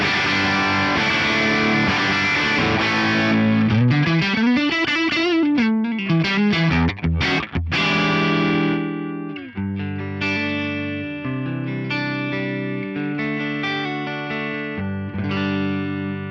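Electric guitar through a Headrush Flex Prime rig, alternating between a distorted, driven passage with bending notes and a cleaner, chiming chordal section, played alone at steady volume.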